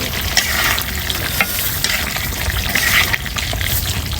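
Chicken pieces dry-fried in a pan with no water, a loud continuous sizzle and crackle under brisk stirring and scraping, close by.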